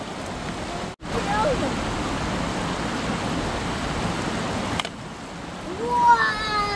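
Heavy rain pours down beside a river in the provinces, a dense steady roar that briefly cuts out, then continues more softly while voices talk over it near the end.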